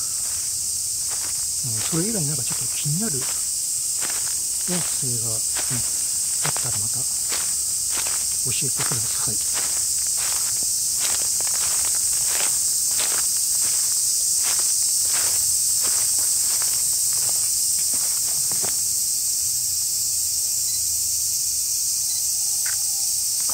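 Dense, steady high-pitched cicada buzzing fills the background throughout a park in Miyoshi, Aichi, Japan, recorded on a Sony PCM-D100, with a series of soft taps and a brief exchange of voices early on.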